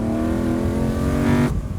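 A 525hp Ariel Atom 4RR engine revs hard on a racetrack, a loud, buzzing harmonic-rich note climbing steadily before cutting off sharply as the throttle lifts, close and unmasked by talk.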